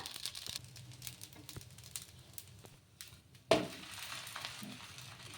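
Pavala pullattu dosa batter frying on a hot pan: a quiet soft sizzle with light crackles, interrupted by one sharp louder clatter midway before the gentle sizzling resumes.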